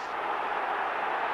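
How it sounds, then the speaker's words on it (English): A football crowd at Ibrox during Rangers versus Ajax roars in a steady, distant broad wash of noise, brief and unbroken, with no talk. "The crowd really roaring now."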